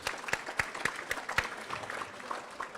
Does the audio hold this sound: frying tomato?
no